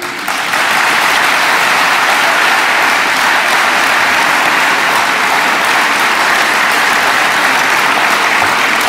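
Loud, sustained applause from a crowd at an election political rally in La Ràpita, with dense, steady clapping that starts abruptly and keeps going without a pause.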